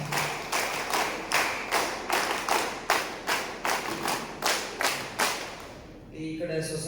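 Rhythmic group clapping at a public awareness rally meeting in Kalasa. Many hands strike together in a steady beat, about two claps per second, for roughly six seconds before the clapping stops.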